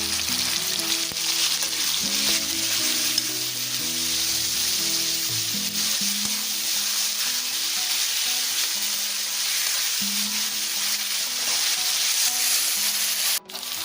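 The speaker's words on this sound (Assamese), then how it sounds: "নিমখখিনি এতিয়া দিলোঁ। ভালকৈ লৰাই ল'ম।" Chicken pieces sizzle loudly in a hot pan as they are stirred after salt is added, a steady close-up frying hiss broken by occasional scraping, with no voices.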